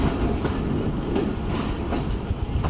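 Fareed Express passenger train rolling along the ML1 main line toward Karachi in the rain, a steady loud rumble with rhythmic clickety-clack of wheels over rail joints throughout.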